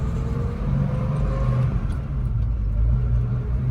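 A 1965 Ford Mustang A-code fastback with a 3-speed manual driving along, its engine a close, steady low rumble with mild throttle swells and a faint whir over nearly four seconds.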